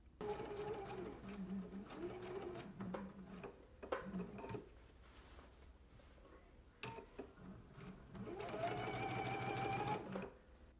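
Sewing machine stitching to reinforce a small dot on a McCall's M8601 garment, two close bursts of fast whirring stitches separated by a quiet pause with light clicks.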